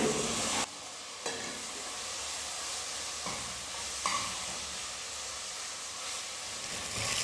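Chopped tomatoes with ginger garlic paste are sautéed in a pan for a vegetable kurma, giving a soft, steady sizzle broken by a few spatula scrapes and knocks. No voices are heard.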